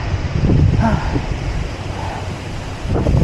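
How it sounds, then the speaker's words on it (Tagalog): Strong, cold wind on a steep uphill climb roars and buffets the microphone in a steady low rumble, with brief gusts swelling louder at the start and end. "Rinig nyo hangin."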